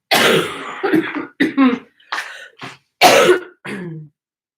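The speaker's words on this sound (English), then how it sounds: "Sorry for my cough." A series of harsh, close coughs and throat clearing, several bursts in quick succession with short silent gaps, ending in a softer rasp.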